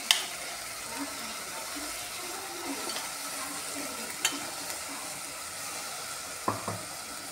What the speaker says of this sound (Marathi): आता त्यामध्ये टोमॅटो प्युरी टाकूया।